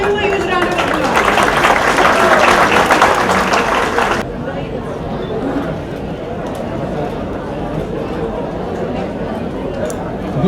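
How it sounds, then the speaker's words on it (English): Audience at the Priyadarshni Academy 33rd anniversary literary awards evening applauds loudly for about four seconds, then the clapping cuts off abruptly into quieter room murmur. "Please give him a huge round of applause."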